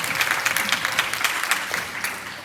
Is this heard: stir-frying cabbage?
no